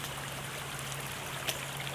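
Floodwater from a hurricane runs off a driveway toward a creek as a steady, low rushing trickle, fairly faint and continuous, with a brief louder splash partway through.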